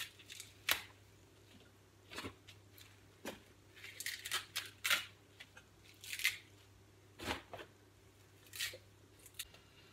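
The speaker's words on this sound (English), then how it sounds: "There you go, rip these up." Kale leaves torn apart by hand while making kale crisps: a series of short, crisp ripping and crunching bursts at irregular intervals, close up, with no talking.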